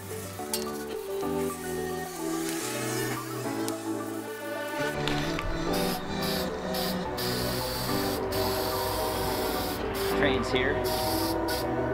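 Appliance epoxy sprayed onto a camper trailer during a DIY retrofit, a steady broadband hiss running throughout with short pauses between passes, fairly close and continuous.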